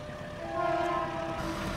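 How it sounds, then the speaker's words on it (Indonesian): A passing locomotive on the Sribila Utama U54 train sounds a signal 35 horn at Bandar Tinggi station, a faint, steady tonal blast held for about a second over distant rumble. "Terdengar semboyan 35 yang dilakukan oleh masinis rangkaian U54 Sribila Utama"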